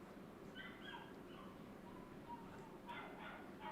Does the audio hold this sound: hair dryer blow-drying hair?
no